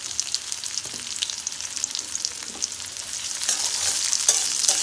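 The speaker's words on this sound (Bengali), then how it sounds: "আবার একটু নেড়ে চেড়ে দিচ্ছি।" Duck meat with chopped onion stirred in a hot pan, a bright continuous sizzle with repeated scraping and clacking from the spatula, growing a little louder toward the end, with nobody speaking.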